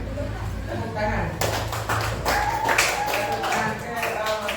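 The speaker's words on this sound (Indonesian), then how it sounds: "Tepuk tangan ke murid." Students clap together in a classroom, a burst of scattered hand claps starting partway through and continuing under a teacher's talking voice.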